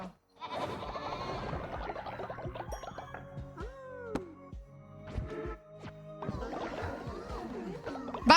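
Snow lambs in a video game bleat in a rapid string of wavering, nasal cries, loud and close, overlapping one another with brief pauses between calls.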